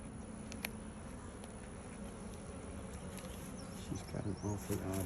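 Honeybees buzz steadily at an open hive frame holding larvae being capped, a constant close hum, with a few louder buzzing passes near the end.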